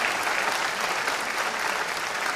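An audience at an awards ceremony breaks into dense, sustained applause, a steady roar of many hands clapping throughout, with no one speaking over it.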